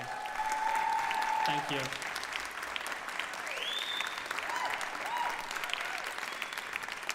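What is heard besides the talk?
audience applause after a performance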